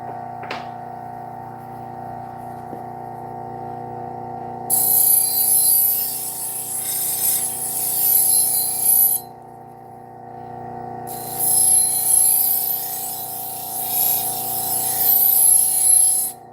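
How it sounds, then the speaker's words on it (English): Kitchen knives are buffed on a leather wheel loaded with compound; a steady motor hum runs throughout, overlaid by two long stretches of bright, hissy friction as blades press against the wheel. "Now the rest of the knives I do on the leather wheel."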